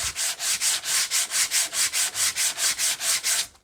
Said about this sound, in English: I've literally just got an 80 grit pad on here and just start sanding it